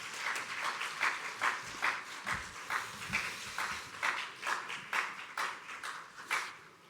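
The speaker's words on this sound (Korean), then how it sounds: "선생님 나오실 적에 크게 박수 한번 하겠습니다" An audience claps to welcome a missionary speaker to the stage, a rhythmic, even applause of moderate loudness that pulses in regular beats, with a few faint voices beneath.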